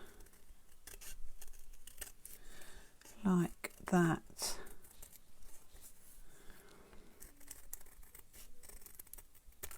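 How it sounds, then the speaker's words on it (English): Scissors snipping through paper close by, a couple of crisp cuts among soft rustling, with a voice speaking briefly. "I'm going to cut round the edge with a pair of scissors"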